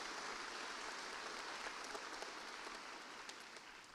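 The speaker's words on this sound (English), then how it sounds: "Maybe you give him a round of applause." A graduation ceremony audience gives a sustained round of applause, a soft, distant-sounding wash of many hands that stays even before easing slightly toward the end.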